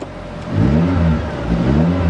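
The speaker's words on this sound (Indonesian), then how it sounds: "ini knalpot masih knalpot aslinya, jadi nggak norak ya" A 2008 Suzuki Swift GT2 automatic revs through its original exhaust, with the engine note climbing and falling in two close, loud surges of a mid-pitched, fairly mild hum.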